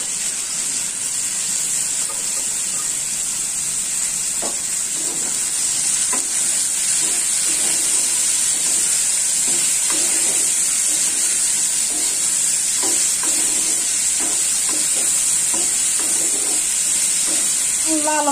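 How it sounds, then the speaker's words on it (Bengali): Potatoes fried in a pan after bitter gourd, in a Bengali home kitchen: a loud, constant oily sizzle fills the whole stretch, with occasional soft stirring taps beneath it. "করলাটি ভাজিয়ে তুলে ফেলছি, এখন আলুগুলো ভাজে নেব। আলুগুলো দিয়ে দিচ্ছি।"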